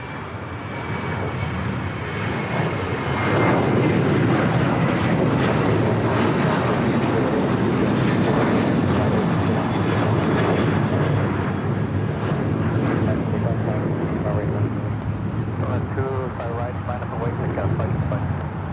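Aircraft engines on the ramp at LAX, a loud sustained jet roar with a whining tone, swelling and holding steady for many seconds, with voices faintly mixed in.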